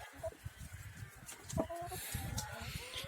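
Chickens on a farm cluck in short, scattered bursts close by at moderate level, with feeding activity and some background farmyard noise throughout.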